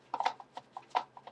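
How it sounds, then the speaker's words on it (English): A loose DVD disc rattles inside its plastic case, giving a string of short, close clicking knocks in an uneven rhythm, with no talking. "That's the sound of a loose DVD"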